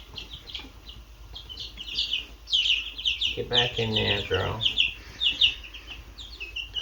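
High, thin peeping of baby chicks chirps repeatedly close by, joined midway by a louder clucking bird while a person speaks briefly.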